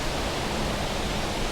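Steady, full-bodied rush of Lumb Hole waterfall in autumn, a continuous broadband roar of falling water, close and even throughout with no voices.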